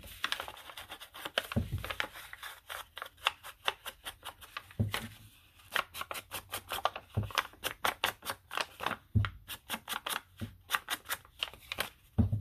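Paper strips torn against a roller while decorating nature journal pages, heard as a long run of quick, crisp rips and crackles in close, irregular bursts with no talking.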